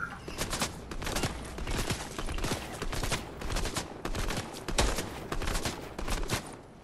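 Rapid bursts of video game gunfire crackle in dense, overlapping volleys, moderately loud and continuous for several seconds, with no voices over them.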